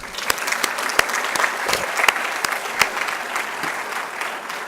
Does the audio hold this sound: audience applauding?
yes